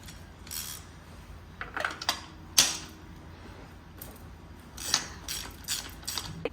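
Socket ratchet with a long extension loosening a spark plug on a Jaguar XJ engine being fixed for a misfire: a few separate clicks and metallic clacks in short bursts, close and fairly faint, with no talking.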